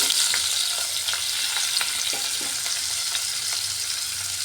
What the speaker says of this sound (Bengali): তেলের মধ্যে দিয়ে দিচ্ছি সামান্য হলুদ। এর মধ্যে কেটে রাখা পটল দিয়ে দিচ্ছি।